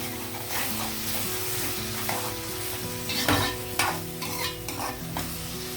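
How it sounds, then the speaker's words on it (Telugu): Tomato pieces fry in a pan for a pandugappa fish curry, sizzling steadily while a spatula scrapes and stirs in repeated strokes, with tonal background music underneath. "ఇదిగోండి టమాటా ముక్కలు కూడా కొంచెం వేగాయి కదా"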